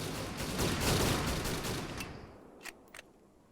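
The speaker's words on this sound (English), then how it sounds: "They're just proceeding with the mag dumping right there at that point." Automatic rifle fire from soldiers emptying their magazines in Arma 3, set in a First Indochina War operation: a dense, rapid burst of shots that fades out, then two brief isolated cracks.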